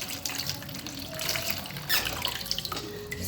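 Ginger root being washed under a running kitchen tap, steady close splashing water with small squeaks and handling sounds as the root is rubbed in the stream.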